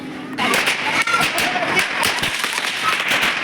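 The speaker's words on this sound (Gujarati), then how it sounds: "એટલા બધા ફટાકડા ફોડતા હતા ને કઈ સંભળાયું જ નતું" Firecrackers burst during a Diwali celebration at a hostel, a dense crackling barrage of pops and bangs with voices mixed in.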